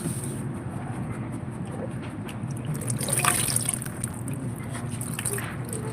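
Water runs in a steady, continuous flow outdoors, heard fairly close against a bed of wind noise, with a slightly louder splash partway through.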